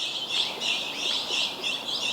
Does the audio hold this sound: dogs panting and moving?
no